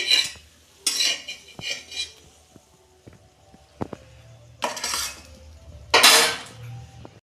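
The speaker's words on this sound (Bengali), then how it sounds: "দেখুন বন্ধুরা ঢাকনা খুলছি" A metal lid comes off a wok of chitoi pitha, giving sharp clanks and scrapes against the rim, followed by a few further knocks and clinks of utensils with quiet gaps between them.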